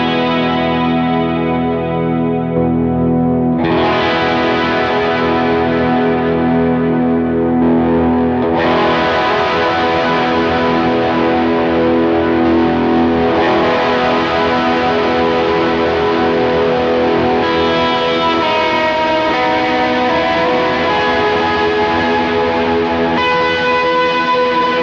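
Electric guitar played through a Line 6 Helix worship dual amp preset, sustained chords with overdrive, chorus and echo washing together, shifting chord every few seconds, loud and continuous with no talking.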